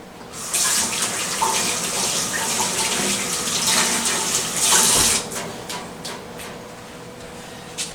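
Water runs steadily from a tap for handwashing partway through preparing a keto brisket, a continuous broadband rush that swells briefly and then eases off near the end, with no talking.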